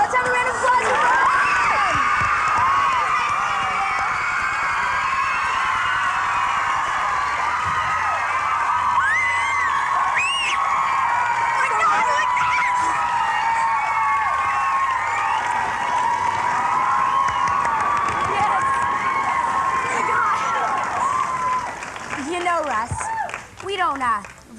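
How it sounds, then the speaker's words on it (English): Sustained audience applause with cheering and whoops from a studio crowd, loud and steady for over twenty seconds before tapering off at the end. "Let's have a round of applause for her."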